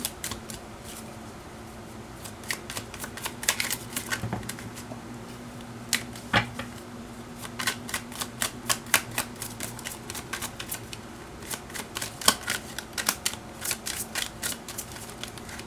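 Tarot cards being shuffled by hand, a continuous stream of crisp flutters and riffling snaps, close by and fairly loud, with no voices.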